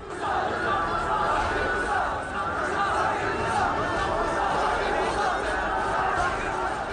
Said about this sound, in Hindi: भीड़ आतंकियों के समर्थन में नारे लगा रही थी।